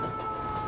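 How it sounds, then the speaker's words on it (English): A siren on a Harlem street, a steady sustained tone holding throughout, fairly loud over low city rumble, with no one speaking. "I'm waiting for the siren to go away."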